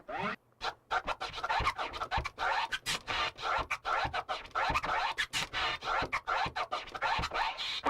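DJ scratching on a vinyl record, with rapid, choppy bursts cut into short stutters by quick crossfader clicks, repeating densely for several seconds, close and alone.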